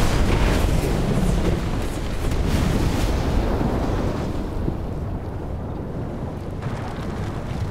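Tank gunfire in War Thunder from an M1 Abrams match: broad, rumbling blasts and heavy low roar, loud and dense at first, then easing into a quieter steady rumble.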